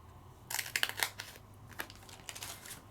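Scissors snip through a small piece of Simply Defined adhesive foam sheet in a papercraft session, a quick cluster of crisp cuts followed by a few lighter, scattered snips and crinkles, close and quiet with no talk.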